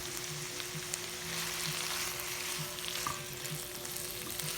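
Bitter gourd (ampalaya) sautéing in a pan with shrimp paste, a steady close sizzle and frying hiss running throughout with occasional light stirring clicks.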